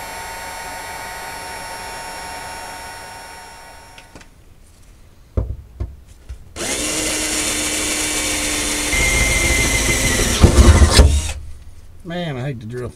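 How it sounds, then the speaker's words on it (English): A power drill bores through the new floor of a 1962 Ford Falcon, a loud whining motor that runs steadily for several seconds before slowing and stopping, with a whirring tool heard earlier in the garage. "Man, I hate to drill through my new pretty floor."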